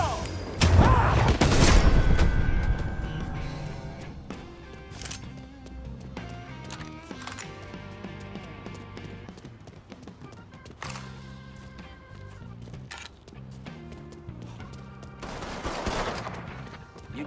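Gunfire rings out in the Mafia III video game: a heavy volley in the opening seconds, then scattered sharp shots over a tonal game soundtrack. Voices can be heard at times.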